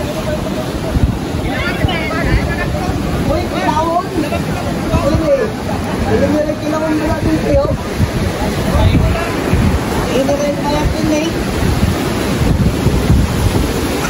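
Ocean surf at the Cloud 9 break on Siargao, a steady rushing wash of waves mixed with heavy wind buffeting on the microphone, with people talking and calling out throughout.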